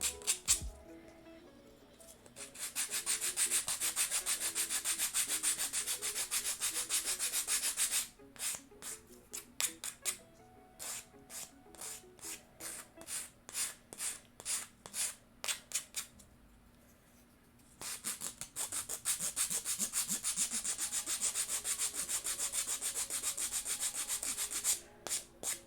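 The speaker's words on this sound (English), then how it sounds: "So unprofessional in my sanding." A wooden miniature dresser is sanded by hand in rapid, rhythmic scratchy strokes, close and loud, pausing briefly between bursts of continuous back-and-forth rubbing.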